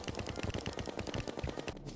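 Rapid, evenly spaced firing from the snail gun in Terraria during a Master Mode fight against Skeletron, a steady mechanical rattle of quick bursts running the whole stretch.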